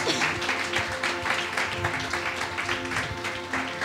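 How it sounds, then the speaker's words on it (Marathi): A church congregation claps together at a Sunday sermon, with fairly quiet, steady applause over a faint sustained musical tone. "टाळ्या वाजवूयात"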